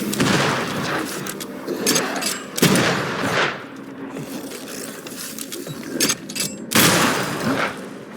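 Gunfire from a corpse enemy in the video game Banishers: Ghosts of New Eden: several loud, broadband bursts of shots ring out in clusters over a constant murky game backdrop, with sharp blasts near 2.6 and 6.8 seconds.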